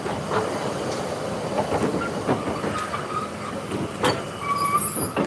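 A Garratt steam locomotive hauling a long rake of carriages at a heritage railway steam festival: rolling wheel rumble with clickety-clack beats and occasional squeals and hiss, close trackside, no talk.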